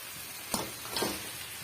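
Fried chicken pieces drop into a sizzling pan of sautéed masala for a chicken fry, giving two soft splashing hits over a steady, quiet frying hiss with no talking.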